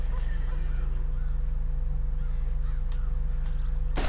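Crows cawing in the western video game Red Dead Redemption, a few faint caws scattered over a steady background hum, ending in a sudden sharp sound.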